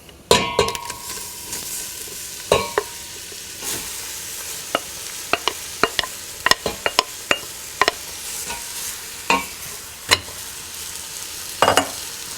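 Onions sizzle in melted butter in a pot for French onion soup, a steady low hiss broken by a dozen sharp clinks and scrapes of a spoon against the pan, close and alone with no talk.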